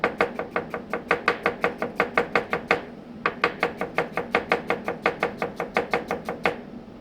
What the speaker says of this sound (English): And then I'm going to julienne.